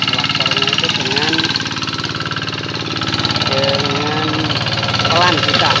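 A tractor engine working a rice paddy runs steadily with a low, throbbing idle-like rumble throughout, while someone talks over it.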